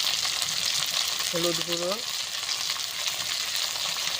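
Chili powder, Kashmiri red chili powder and turmeric fry while being stirred in a pan, a steady, loud, close sizzle throughout with a brief voice speaking over it.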